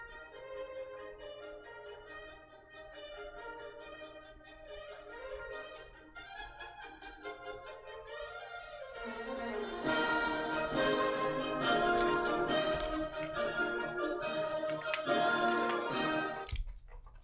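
An orchestra plays the lively, upbeat main A theme of a Classical-era concerto, starting with a quieter busy texture and swelling into a fuller, louder tutti before an abrupt cut; sounds somewhat distant with no talking.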